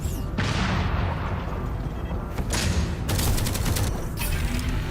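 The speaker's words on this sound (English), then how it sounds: "Whoa, did it explode after dying?" An enemy bursts apart after dying in the shooter game Deadzone: Rogue, with booming blasts mixed into rapid bursts of gunfire, loud and dense throughout.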